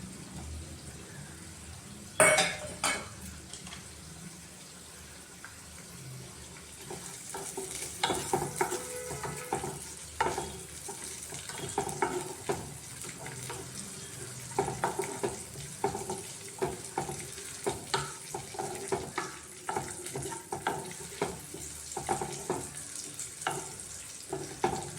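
Raisins and cashews fry in ghee with a low sizzle beneath frequent clicking and scraping strokes of a spoon against the pan, steady and close over the whole stretch with no talking.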